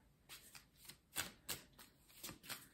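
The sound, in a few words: tarot cards being shuffled and laid out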